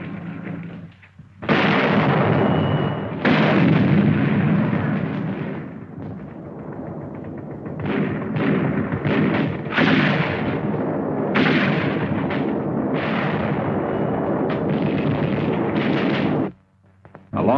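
Wartime artillery fire from Chinese infantry and artillery units in Burma, heard as a series of loud, booming blasts and rumbling bursts that repeat irregularly across the span before falling away near the end.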